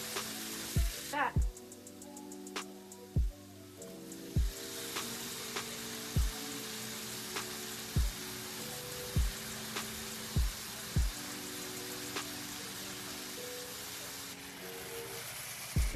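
Chicken fries in oil in a pan with a steady, soft sizzle, overlaid by regular low thumping knocks roughly every second and a quiet tonal hum.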